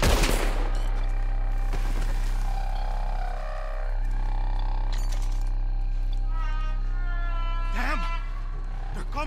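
Gunfire in the western video game Red Dead Redemption 2: a few sharp shots crack out over a loud, sustained music and ambience bed, with tonal swells and a brief roar-like sound mixed in.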